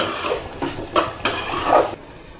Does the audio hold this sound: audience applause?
no